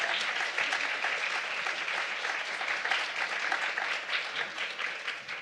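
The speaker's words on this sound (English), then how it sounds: "let's have one final round of applause" Audience applause at a poetry reading for two poets, a dense, steady wash of clapping that fills the room and holds throughout before easing slightly toward the end.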